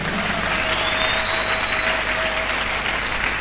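Church congregation applauding together during a sermon, a steady dense wash of clapping that holds at full strength for the whole stretch with no pauses.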